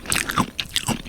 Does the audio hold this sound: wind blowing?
no